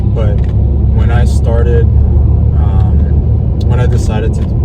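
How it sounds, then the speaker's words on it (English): A car drives along with a low, steady engine and road rumble filling the cabin, heard from inside beneath close conversation between passengers. "This like car that we're driving right now"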